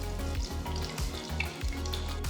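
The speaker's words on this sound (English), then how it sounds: "Once the oil is heated up, add a few whole spices, cinnamon, cloves, cardamom." Whole cinnamon, cloves and cardamom sizzle steadily in hot oil in a kadai, a close, continuous frying hiss with small crackles and no voices.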